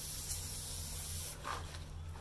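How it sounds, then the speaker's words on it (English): Oil sprayed in a steady hissing burst onto the underside of the blades of a Ryobi One+ 18V cordless hedge trimmer, a continuous close spray with a brief break and a second push near the end. "all I'm going to do is use some oil. So, just going to give the underside some spray."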